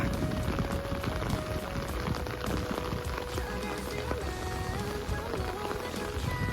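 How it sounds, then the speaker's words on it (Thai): Heavy rain pours steadily onto surfaces outdoors in Hongsa, Xayabury, a dense continuous hiss with no break, close and fairly loud. "ฝนตกเห่ง"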